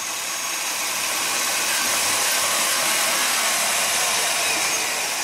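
A Chevy 5.7 Vortec V8 runs steadily with an even, hissy engine drone that stays constant and close throughout, with no voices.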